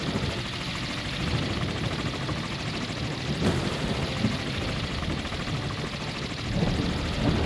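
A KA-27 helicopter in the naval video game Sea Power gives a steady, dense rotor and engine roar that holds at an even level throughout, with no talk.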